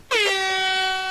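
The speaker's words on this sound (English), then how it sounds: "Pipple's ability works very similarly, if not just like an air horn" A single loud air horn blast from a video game sounds abruptly, a bright brassy tone held steady for about a second.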